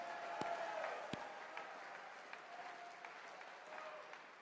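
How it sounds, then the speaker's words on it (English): Steady applause from a conference audience at CPAC, a dense continuous wash of clapping with a few sharper claps standing out, sustained throughout at moderate level. "let's just give a big round of applause, huge thanks to Matt Schlapp and the team for the great work they do"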